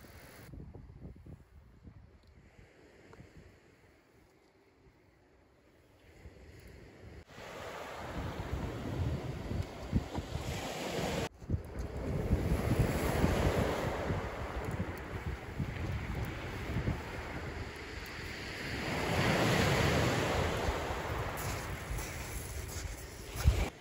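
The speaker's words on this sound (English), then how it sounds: "We've set up a little bit further back because obviously the tide's coming in. So we've got big spring tides and the wind's off the land." Waves and surf wash against a sea shore on an incoming spring tide, with wind blowing off the land and buffeting the microphone; the surf is quieter at first, then rises to a steady, loud roar.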